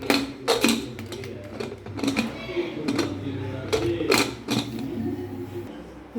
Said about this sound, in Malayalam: എന്നിട്ട് കുക്കർ അടച്ച് വെക്കുക.